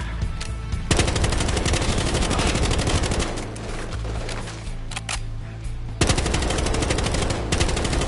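Rapid bursts of automatic gunfire ring out during a drive-by in Battlefield Hardline, loud and sustained with brief pauses between volleys, over engine rumble.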